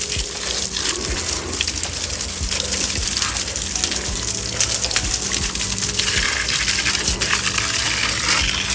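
Water gushes steadily from a hose as plants get watered inside a showroom in Dubai, a loud, continuous splashing spray with scattered drips and patter throughout.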